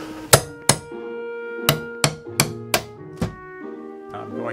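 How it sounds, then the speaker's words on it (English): A slender flat bar is hammered into the sash of a painted-shut historic window, giving about eight sharp metallic strikes at an irregular pace, close and fairly loud, each followed by a short ringing tail. "I'm going to drive this slender little flat bar"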